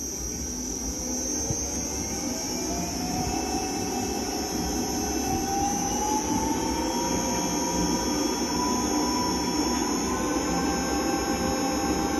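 A 300L ribbon blender for plastic masterbatch with TiO2, CaCO3 and LDPE runs up to maximum speed, giving a steady loud motor hum and whine that rises slightly in pitch and holds without a break.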